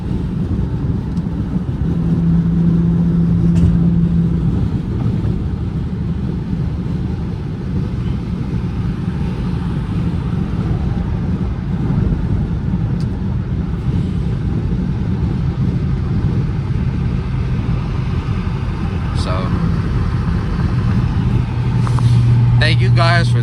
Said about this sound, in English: Right now we just doing a durability test. We're gonna try to spin donuts, go crazy with it, try to blow the engine basically.